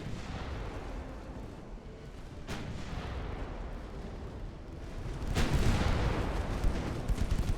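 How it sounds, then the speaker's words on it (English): Heavy naval gunfire from a 9-inch ship gun in a dreadnought-era naval battle game, a continuous rumbling barrage with sharp booms rising in intensity toward the end, loud and dense with no pauses. "the 9-inch fires pretty quickly"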